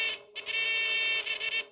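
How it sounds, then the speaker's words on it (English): Electric buzzer in a simple classroom circuit sounding a loud, harsh continuous tone, broken by a short gap near the start and a few quick stutters toward the end, heard alone without talk. "So that is how a buzzer is working."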